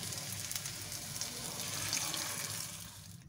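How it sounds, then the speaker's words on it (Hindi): Mutton kebabs shallow frying in oil in a pan give a steady, close sizzle and crackle that holds at an even level throughout, with no voices. "अब मैं एक एक कबाब उठाती जाऊंगी और इसको पैन में डालती जाऊंगी फ्राई होने के लिए"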